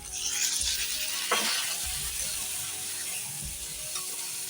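Masala of spices frying in a pan for a pointed gourd and soybean curry hisses loudly as a splash of water goes in, a steady close sizzle with brief bursts and faint stirring scrapes, no talking.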